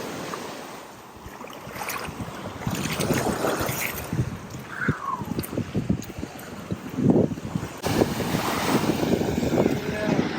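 Ocean water washes back and forth on Kauai, Hawaii, in a steady rush, with gusts of wind buffeting the microphone and a brief higher tone partway through.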